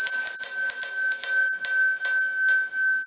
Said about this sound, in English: So these bells would be rung anytime that handle was turned, because it would just pull on the wire.